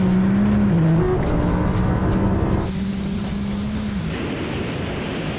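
A 1600 hp Nissan GT-R in a rolling race from 40 mph against an Audi R8 and a McLaren 720S, a loud engine roaring up through the gears with pitch steps at each shift and rushing wind noise throughout.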